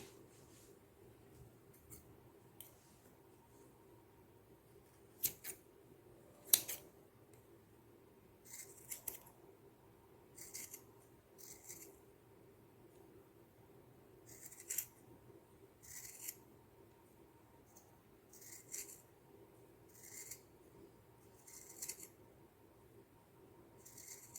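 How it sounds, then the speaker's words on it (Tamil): Scissors cut neatly in a quiet kitchen, making faint, sharp snips at irregular intervals with soft rustling between them. No one speaks. "இது வந்து நீட்டாக கட் பண்ணிடலாம் இப்போது"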